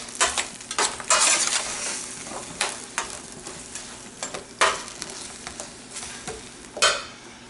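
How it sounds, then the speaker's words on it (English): Roasted root vegetables being turned in a hot pan, with scraping stir strokes coming in bursts over a soft continuous sizzle, close and moderately loud, with no voices. "We're going to give these a quick turn to make sure they don't stick to the bottom of the pan"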